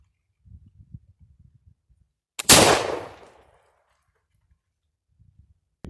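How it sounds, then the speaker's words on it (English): A muzzleloader fires a single .54 caliber ball over 50 grains of powder: one loud, sharp outdoor blast with a decaying tail, framed by faint handling clicks before and after. "So we're gonna shoot a 54 caliber ball, still 50 grains of powder."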